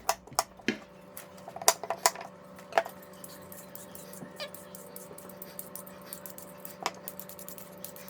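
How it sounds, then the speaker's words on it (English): Carrots being peeled and diced on a board at home, with sparse, irregular knife taps and scraping clicks, close and fairly quiet over a faint steady hum. "I'm gonna start peeling and dicing my carrots"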